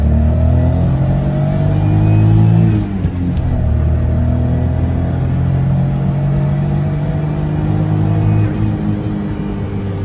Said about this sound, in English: Let me give you a second gear acceleration test though.